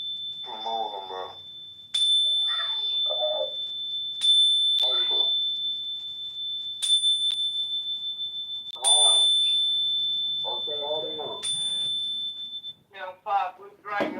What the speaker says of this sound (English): It's my Zen Bell weapon.